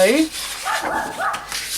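A puppy dog in a craft room gives a quick, high yip right at the start, followed by softer voice-like whines or murmurs at close range.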